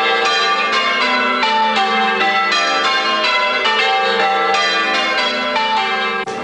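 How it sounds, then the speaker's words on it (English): Church bells ringing the changes, treble to tenor, ring continuously in rapid sequence, many overlapping tones cascading from high to low, loud and sustained with no voices. "Ringing the changes, treble bell to tenor, unites young and old."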